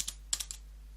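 A handful of quick, light keystrokes tapped on a computer keyboard in a quiet room, in short irregular bursts and fairly close.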